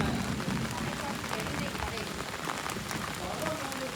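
Steady rain falls during a Diwali evening of firecrackers in a village, a dense, continuous patter with no single drops standing out, close and fairly loud throughout.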